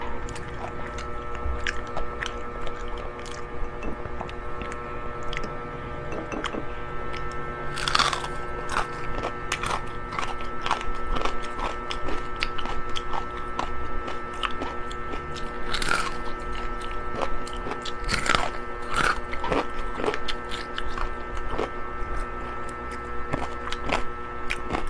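Someone eating crispy fried pork belly (lechon kawali), with steady close chewing and occasional sharp crunches over a constant electrical hum, no talking.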